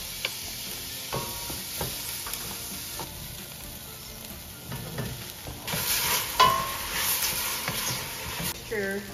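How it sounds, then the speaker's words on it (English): Onion sautéing in a pan: a soft, continuous frying hiss with scattered stirring clicks, growing louder and busier in the second half as the pan is worked, close by, with a voice briefly present. "Sauteing onion."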